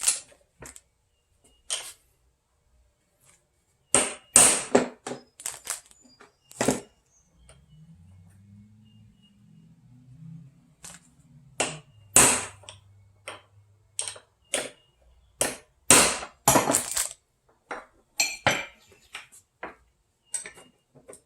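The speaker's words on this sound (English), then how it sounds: "Use the socket with a hammer." Sharp metallic taps come in irregular bursts, a hammer striking a socket to install a motorcycle lower linkage bearing, with a quiet pause in the middle and loud close hits.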